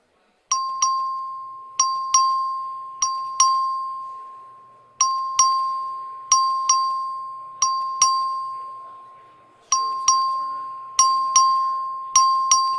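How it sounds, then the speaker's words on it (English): A clerk repeatedly rings the voting bell in the Texas House chamber, sharp single and double dings each ringing out and fading, in irregular bursts over a quiet room. "The clerk will ring the bell"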